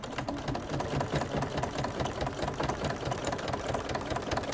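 A sewing machine runs continuously and close, its rapid even needle clatter stitching the lining of a crossbody bag without a break.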